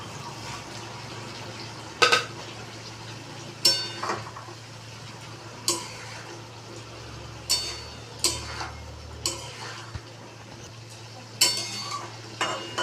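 Small fried puti fish being stirred into a little water and paste in a kadai, with a series of sharp spoon-against-metal clinks and scrapes spaced every second or so over a low steady hum, no talking.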